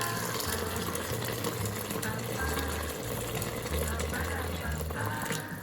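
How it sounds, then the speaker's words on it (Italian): Broth pours into lentils in a pot, a continuous splashing, gushing liquid sound close by, steady through the whole stretch with a faint low hum beneath, with no talking. "Nel frattempo aggiungo il brodo."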